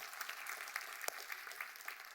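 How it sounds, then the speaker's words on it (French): Applause from a church congregation welcoming first-time visitors: a dense, steady patter of many hands clapping together, fairly faint and evenly sustained throughout. "on peut les applaudir, merci, bienvenue"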